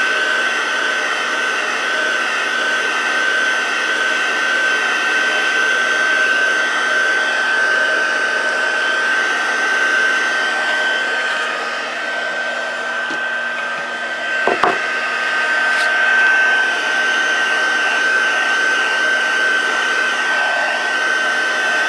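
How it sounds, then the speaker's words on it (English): Craft heat tool blowing hot air to dry embossing powder on a watercolor card, a steady loud fan whir with a high whine, briefly dipping once before resuming, with no one speaking. "I'm gonna go ahead and put it on one on my heat tool and dry it."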